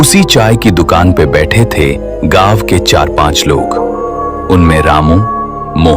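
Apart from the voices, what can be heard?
No everyday noises stand out.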